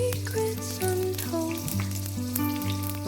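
Chillies (including ghati and kunta varieties) frying in oil for sambar masala, a steady bubbling sizzle with faint stirring scrapes, close and continuous with no talk.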